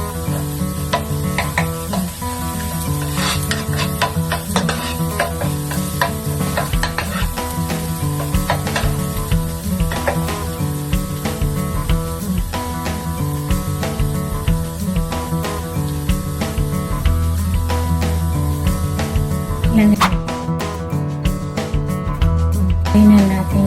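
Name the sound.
pork belly frying and browning in pan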